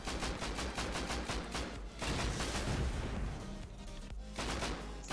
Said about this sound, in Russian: он с дробаша стреляет